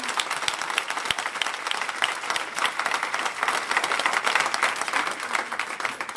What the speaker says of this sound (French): un grand applaudissement pour Anne